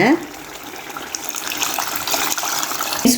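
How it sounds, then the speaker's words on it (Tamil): Tamarind water poured into a pot of curry leaf kuzhambu, a steady close splashing pour that builds over a few seconds, with a brief clatter at the start and end. "நான் புளி எடுத்துருக்குறேன் அதை வந்து ஊற்றிக்கிறோம்"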